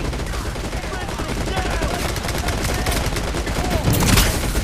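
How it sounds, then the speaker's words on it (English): Artillery barrage in the video game Delta Force, dense rapid bursts of gunfire and explosions rolling continuously and loudly, with a heavier blast near the end. "Artillery barrage ready."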